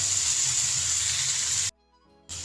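Nigerian fried rice with smoked chicken sizzles steadily in a hot pan, a bright constant hiss that abruptly cuts out for half a second, then resumes.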